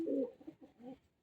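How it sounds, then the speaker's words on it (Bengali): Domestic pigeons coo close by in a few soft, low, throaty phrases, the first loudest and the later ones trailing off, with no talk. "দাদার অনেক পায়রা আছে সেলে"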